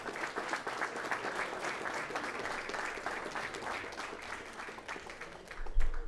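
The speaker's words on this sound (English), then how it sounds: "How about we give them a round of applause as they get on the stage?" An audience at a school board meeting claps for high school powerlifters taking the stage, sustained applause throughout with a soft low thump near the end.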